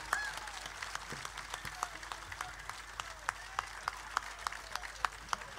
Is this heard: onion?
no